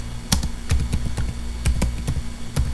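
Keys clatter on a computer keyboard while a pip install command for SciPy is entered on Windows, about a dozen crisp, close taps coming in quick irregular bursts with short pauses, no voices.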